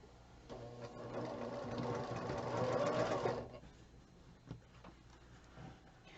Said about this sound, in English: now I'm just going to sew these rows together